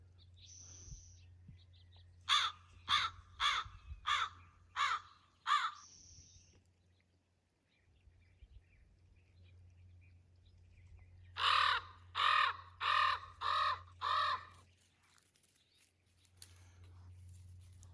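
Two bursts of crow caws on a ranch, each a run of five or six harsh calls spaced about half a second apart, fairly loud over a low steady hum.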